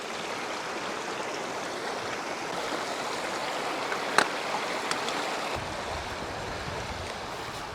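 A mountain stream on Beinn a Chliabhain, Arran, rushes and splashes close by in a steady, loud broadband wash, joined by a few faint clicks and no voices.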